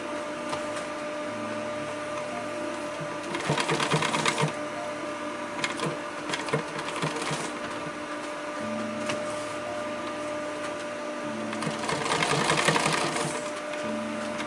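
A sewing machine stitches an EDC organizer in steady mechanical bursts, with short pauses between runs of rapid, whirring needle strokes, heard close and alone.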